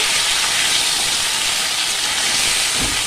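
Chopped vegetables hit a hot pan after panch phoron spices, giving a loud, steady broadband sizzle and hiss that fills the whole moment without a break.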